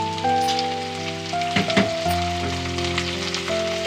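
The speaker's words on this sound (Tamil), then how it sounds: "இதை கொஞ்சம் நல்லா வதக்கி விடுங்க வெங்காயம் கொஞ்சம் வதங்கணும்" Onions and tomatoes sautéing in hot oil in a pan for a Tamil brinjal gravy, giving a steady close sizzle and crackle with a sustained tonal hum underneath.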